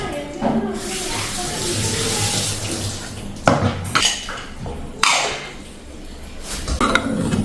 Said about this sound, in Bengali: এবার এর মধ্যে এই তেঁতুল জলটা দিয়ে দেবো